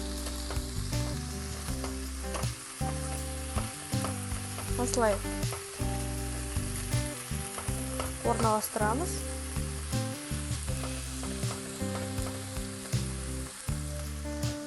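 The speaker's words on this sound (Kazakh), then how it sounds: "1 минут қуырсақ жеткілікті." Boiled broccoli fries in butter in a pan with a steady sizzle through the whole stretch, under a brief spoken remark and a bed of background music.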